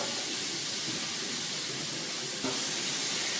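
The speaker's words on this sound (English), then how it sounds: "our chicken is frying along nicely" Steady broadband sizzle of chicken frying in hot oil, constant and fairly quiet, with no talking.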